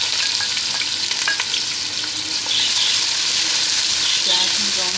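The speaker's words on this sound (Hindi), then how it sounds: "प्याज हम ब्राउन करेंगे, गोल्डन ब्राउन।" Onions browning in ghee in a cooking pot give a steady, loud sizzle with occasional stirring scrapes, close up and without speech.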